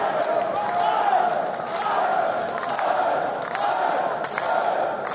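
A wrestling crowd roars at a wXw Fight Forever event in the Turbinenhalle in Oberhausen, Germany, a sustained, far-off cheer that swells and dips, with a voice talking over it.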